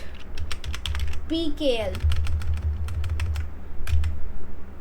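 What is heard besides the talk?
typing code on a computer keyboard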